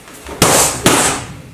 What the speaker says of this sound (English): you're going to be hitting that target mitt